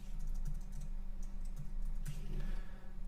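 Fast, light clicks of someone typing a word on a computer keyboard while designing a website, steady keystrokes heard close over a low background hum, with no speech.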